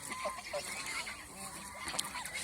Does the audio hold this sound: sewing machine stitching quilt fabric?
no